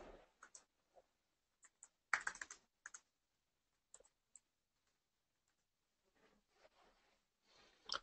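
Quiet keystrokes on a computer keyboard as data is entered into a document workflow form, scattered taps and short bursts with pauses between, close and soft, no talking.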